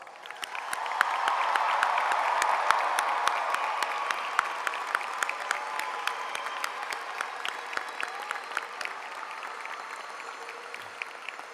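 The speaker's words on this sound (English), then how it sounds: "Please join me in another round of applause." The audience at a high school graduation commencement breaks into a long, full round of applause with some cheering, swelling early and then thinning gradually into scattered claps.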